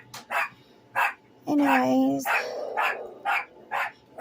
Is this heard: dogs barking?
yes